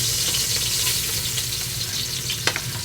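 Garlic frying in a pan for spaghetti, a steady broadband sizzle with light stirring and a couple of sharp spatula clicks near the end, no talking.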